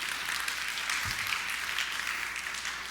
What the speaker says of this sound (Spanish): démosle un aplauso a estos jóvenes que todavía están sirviendo al Señor dentro de nuestra iglesia